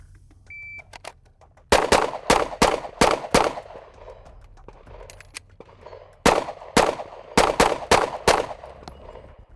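Pistol shots on a shooting drill against close-to-far targets with a reload: a fast string of five sharp reports, a pause of a few seconds, then another rapid string of five cracks, loud and close.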